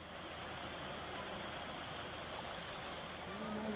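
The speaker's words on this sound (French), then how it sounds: "Oh là là, une petite cascade trop jolie." A small waterfall cascades on a forest walk, a steady soft rushing of water heard at moderate distance, continuous and even throughout.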